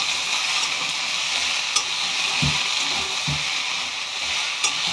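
Peas tumbling into a pan of frying cauliflower curry, a steady close hiss of sizzling oil with a few soft thumps and stirring knocks, no voices.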